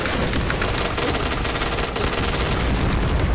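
Rapid automatic gunfire from a weapon in the shooter game Point Blank, a dense continuous stream of close, loud shots lasting a few seconds.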